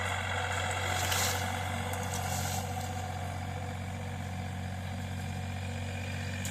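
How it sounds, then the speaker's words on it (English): A green tractor drives up a hill, its engine a steady low drone at a moderate distance that holds evenly throughout with no voices. "Here it comes. That green tractor right back there kind of blends in with the scenery."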